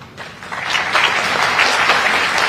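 An audience at a public speech for Swami Vivekananda's birth anniversary breaks into sustained, dense clapping that swells within the first second and holds steady, with no voices over it.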